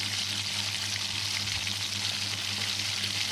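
Potatoes being sautéed in a pan for aloo dum, a continuous close frying sizzle with a low steady hum beneath and faint stirring, no talking.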